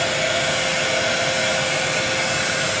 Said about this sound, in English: So we got our heat gun.